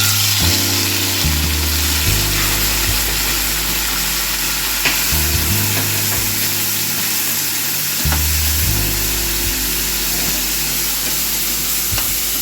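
Tomato pieces fry in hot oil in a pan, giving a steady, close sizzle with intermittent scraping and stirring sounds throughout.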